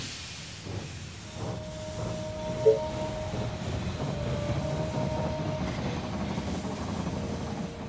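A train pulls into a station in the strategy game They Are Billions, a steady rolling rumble with clickety-clack and a drawn-out brake squeal, moderately loud with a brief clunk partway through.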